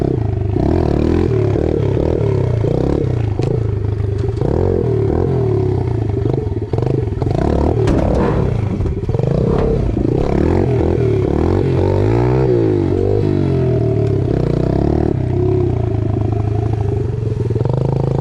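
A Yamaha 110 motorcycle revving hard and holding high throttle for a wheelie, the engine loud and close with a rough, wavering drone and some mechanical clatter throughout.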